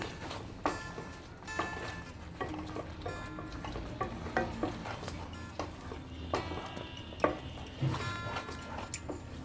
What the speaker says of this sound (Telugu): ఇట్లా అడుగు అంటకుండా కలుపుతూ ఉండాలి.